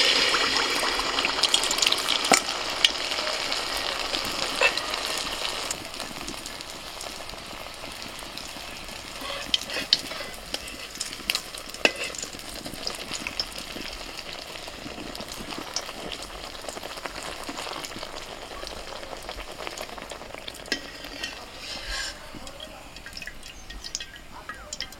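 Pithe cakes frying in hot white oil give a continuous bubbling sizzle with drips and occasional stirring, close and moderately loud, with a voice talking over parts of it.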